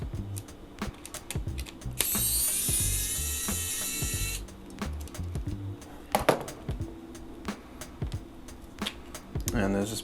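Screws are backed out of a Radiomaster Pocket radio's speaker mount with a small screwdriver, giving close ratcheting clicks and tiny scrapes, with a brief high electronic whine from the radio partway through.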